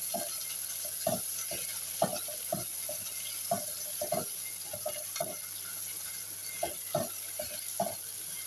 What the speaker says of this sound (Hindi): ये जो प्याज हमने काट के रखी थी ये हम इसमें ऐड करेंगे। इसको फ्राई करेंगे।